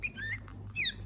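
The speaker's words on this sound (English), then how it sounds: "Now the other little chirping noise you hear" A tiny baby figbird or friarbird chirps twice in quick succession: thin, high, sliding peeps close by, with a soft click between them over a low background hum.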